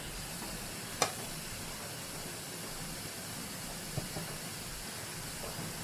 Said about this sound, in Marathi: मी इथे पातेल्यामध्ये पाणी तापत ठेवलेलं आहे आणि हे पाणी आपण चांगलं व्यवस्थित उकळू द्यायचं आहे